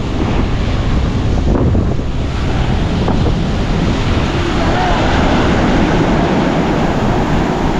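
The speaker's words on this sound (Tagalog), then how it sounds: "Kalakas ba naman ng hangin?" Strong wind blows by the sea, a loud, unbroken roar of gusts buffeting the microphone over crashing surf, steady from start to finish.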